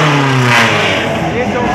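A loud, close, modified car engine, a B16 bored out to 1.8 litres, revs high and then drops back from the limiter cut, while a person talks over it.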